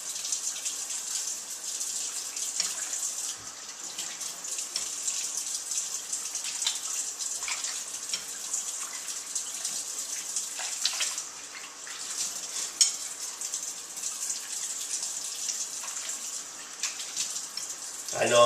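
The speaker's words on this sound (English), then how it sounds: "putting my hands under that cold running water is the wimpy way" Cold tap water runs steadily over hands at a kitchen sink while fresh mozzarella is being made, a continuous close hissing splash with faint handling sounds, and someone talks over it.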